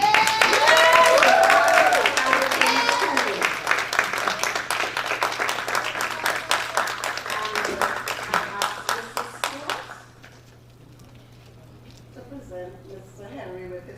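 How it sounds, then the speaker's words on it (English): Applause for a third-place winner at a primary school public speaking competition, loud cheering and clapping that thins into scattered individual claps, with voices talking over it, fading to quiet talk. "in 3rd place, we want to raise a round of applause for Ronaldo Henry."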